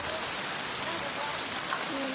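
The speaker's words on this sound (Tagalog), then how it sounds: "Sobrang lakas ng ulan sa amin." Heavy rain pours down in a dense, constant hiss, with faint voices in the background.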